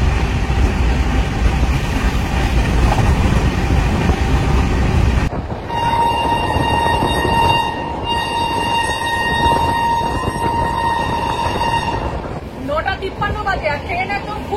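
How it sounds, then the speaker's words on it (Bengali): The Duronto Express from Howrah to New Delhi runs at full speed through Burdwan Junction. A loud, roaring rumble gives way to a sustained tonal whine and horn-like drone, with a murmur of passenger voices underneath. "ট্রেন একদম ফুল স্পিডে বেরিয়ে গেল বর্ধমান জংশনের উপর দিয়ে।"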